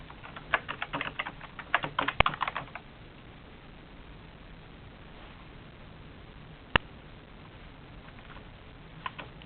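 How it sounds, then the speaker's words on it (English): Quick bursts of clicking keystrokes on a computer keyboard while entering a C program, close and clear for a few seconds, then mostly quiet with a couple of isolated key taps later. "Sorry, I typed it wrong."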